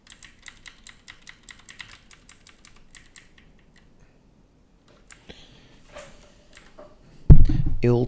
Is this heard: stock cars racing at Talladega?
no